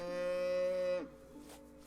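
A cow in the survival game Rising World gives one long, steady low moo lasting about a second, loud and close, then fades into quiet game ambience.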